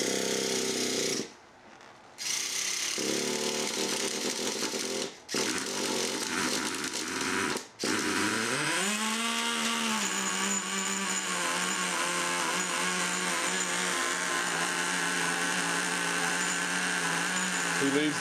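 A Traxxas T-Maxx RC truck's nitro engine, fired with a separate glow igniter, sputters through brief stops, then catches and settles into a loud, steady buzzing run that rises in pitch.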